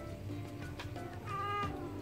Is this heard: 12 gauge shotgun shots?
no